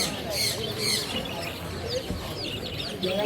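Lovebirds chirp and tweet in an exotic pet shop in Chennai, with repeated short high calls over a busy, noisy shop background.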